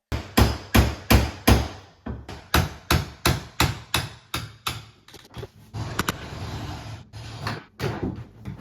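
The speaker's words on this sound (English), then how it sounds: "I'm just removing part of the old floor so that the new floor will fit seamlessly like this" Hammer blows pry and knock out part of an old wooden floor, a steady run of sharp, loud strikes in quick rhythm, then a pause before more irregular knocks and scraping of boards close by.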